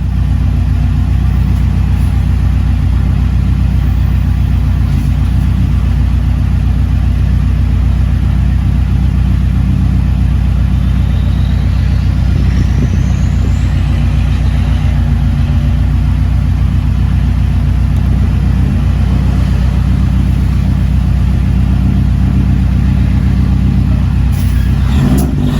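A 2005 Subaru STI fitted with a new intake pulls hard under acceleration, its engine note loud and continuous throughout, rising in revs with a steady low rumble and intake growl and no talking.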